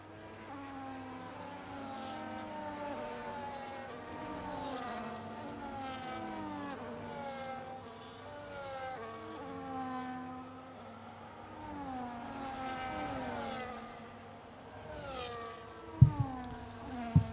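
F1 race cars on the formation lap at Silverstone for the British Grand Prix in a racing video game, a steady layered drone of engines rising and falling in pitch as cars pass, with a couple of sharp knocks near the end.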